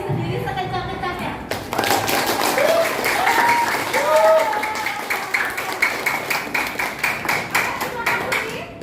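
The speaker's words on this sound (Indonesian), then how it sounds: "kita menyemangati diri dengan tepuk tangan untuk diri sendiri sekencang-kencangnya" Students in a classroom clapping loudly for themselves, a dense burst of applause that settles into a rhythmic, fairly even clapping pattern, close and sustained, with a voice speaking briefly before the claps begin.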